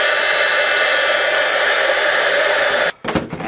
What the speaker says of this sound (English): So let's go ahead and heat emboss it again.